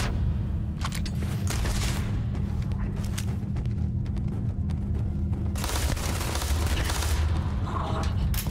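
Rapid bursts of machine pistol fire in the Starfield video game, with dense, loud repeated shots and booming impacts over steady game background noise throughout.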